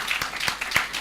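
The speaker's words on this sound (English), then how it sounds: "I think that deserves a round of applause, ladies and gentlemen." Brief burst of audience applause from a talk show interview, a few distinct claps close together, moderately loud with no talk.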